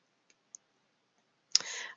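A computer mouse clicks on an Edit button while editing an email in Salesforce Lightning, two faint ticks followed by a sharper, close click.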